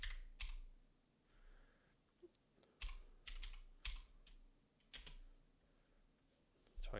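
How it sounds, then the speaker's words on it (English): Several short bursts of keystrokes on a computer keyboard, clicking in quick clusters with brief pauses between them, close and fairly quiet. "And we're going to just type in"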